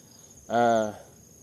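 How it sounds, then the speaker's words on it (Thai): A large gecko calls from a big neem tree in a garden, giving a single loud, buzzy, harmonic croak of about half a second that rises above a steady insect hum. "ตุ๊กแกเสียง ตุ๊กแกตัวใหญ่มาก"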